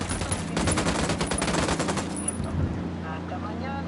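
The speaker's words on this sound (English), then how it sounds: "Opening fire on these fuckers." Rapid automatic gunfire in the tactical shooter Ghost Recon Wildlands, a loud sustained burst of rattling shots lasting about two seconds before fading into a quieter tail, with speech present.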